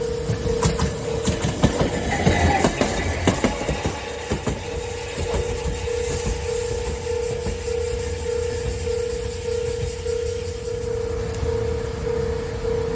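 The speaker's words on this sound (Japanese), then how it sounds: "ボンボンボンという警報器の音が特徴で、遠くからもよく聞こえます。" Near the Kagoshima city tram line and the JR Sasanuki crossing, a level crossing alarm drones a steady repeating tone, with heavy rumbling from a passing tram or train early on.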